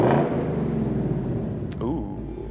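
A 2024 Ford Mustang engine rumbling at idle close by, with a low steady growl and a short rev toward the end, while people talk over it.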